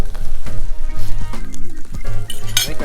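Mushrooms caramelizing in a cast iron pan over an open fire give a steady close sizzle and frying crackle, with occasional light metallic clinks of utensils against the pan.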